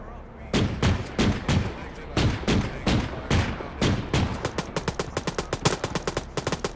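Rapid gunfire from a rooftop shooter in the ARMA 3 military game: a long run of sharp, loud shots, first spaced irregularly and then tightening into a quick, steady burst.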